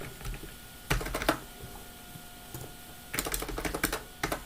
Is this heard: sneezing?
no